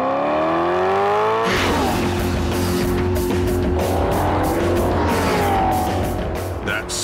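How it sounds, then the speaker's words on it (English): Maserati V8 sports car engine tweaked to 444 horsepower, with a race mode and loud exhaust, revs up sharply and accelerates hard with rising harmonic pitch, loud and close, sustained throughout with tire noise and faint voices underneath. "Under the bonnet, the V8 has been tweaked, so it's now firing 444 horsepower"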